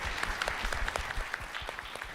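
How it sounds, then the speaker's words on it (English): A seated audience at a panel on Black horror gives a round of applause, a soft, fairly distant wash of many hands clapping steadily, with faint scattered voices underneath. "if you could give yourself a round of applause"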